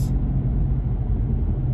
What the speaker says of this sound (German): Brummen, Knallen.